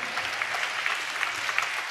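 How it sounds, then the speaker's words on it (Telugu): A church congregation claps together in steady, dense applause, even and sustained throughout with no break. "కొడదాం గట్టిగా చప్పట్లో"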